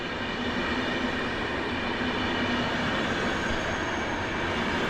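A train at Warszawa Zachodnia station gives off a steady, close rumble and broadband roar with no pauses, and no voices are heard.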